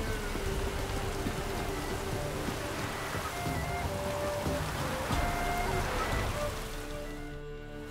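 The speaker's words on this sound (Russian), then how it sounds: "Планетники нам дождь посылают" In The Witcher 3, steady rain falls with a soft, continuous patter and hiss, accompanied by tonal game sounds.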